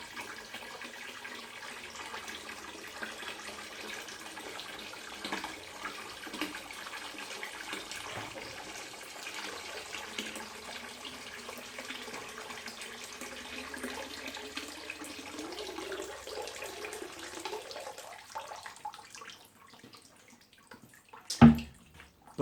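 Water runs steadily into a bucket hung on a garage glue test rig comparing 3M and Araldite adhesives, a continuous quiet filling rush whose pitch rises as the bucket fills, ending with a sharp clunk.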